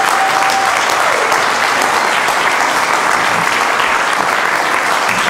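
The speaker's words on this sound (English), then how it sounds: "let them applaud one more time" A stage audience applauds performers taking a bow, a dense, loud, continuous wash of clapping that holds steady throughout, with a faint voice briefly under it.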